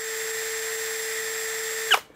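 A DongCheng DCJZ2040i compact brushless cordless impact drill spins at its second variable speed, a steady high motor whine held for about two seconds before stopping abruptly with a short clack.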